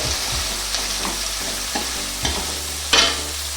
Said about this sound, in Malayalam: നന്നായിട്ടൊന്ന് വഴക്കണം